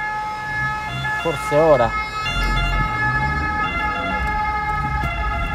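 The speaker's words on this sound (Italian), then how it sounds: "Fanculo l'ambulanza!" An ambulance siren wails close by, its rising and falling tones sweeping past a 2000 Fiat Panda Young with a 900ie engine idling in first gear, under steady engine hum and a brief spoken remark.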